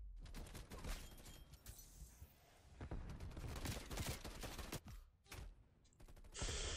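Semi-automatic TEC-9 SMG fire in the video game Call of Duty Cold War: a run of sharp, loud single shots in uneven succession, with reverberant game action filling the gaps between them and no one talking.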